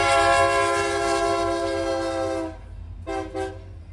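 A Union Pacific EMD SD70MAC locomotive sounds its horn in one long, loud, chord-like blast lasting about two and a half seconds, followed by two short toots.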